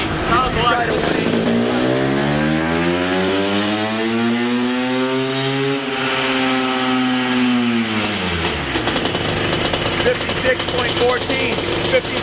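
A 500cc two-stroke motocross bike engine revs on a dyno, loud and close, its pitch climbing in a long sweep, holding at peak, then dropping back to idle, with some voices faintly around it.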